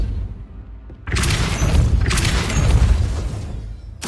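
The Depulso spell is cast in the Hogwarts Legacy video game: a booming magical blast that swells into a sustained roar, then a second surge follows.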